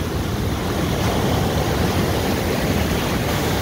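Ocean waves wash against the shore in a steady, loud rush of surf with wind noise mixed in, no voices present.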